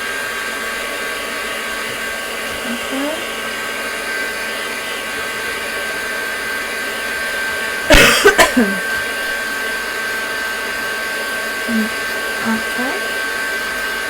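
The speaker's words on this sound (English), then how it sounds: "I'm just going to give this a zap with the heat gun just to show you the shimmer" A heat gun blows a steady, loud whoosh over craft shimmer powder for the whole stretch, with a brief cough-like burst and a short spoken word partway through.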